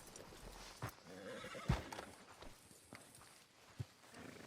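A horse in a video game whinnies and neighs while its hooves clip-clop, with a few sharp hoof thumps standing out over a low ambient bed near a sheriff's office in a western town.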